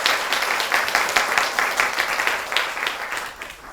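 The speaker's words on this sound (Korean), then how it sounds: "박수를 보내주세요." Audience at a university farewell lecture applauds a department head, a steady wash of many hands clapping at moderate volume without talk.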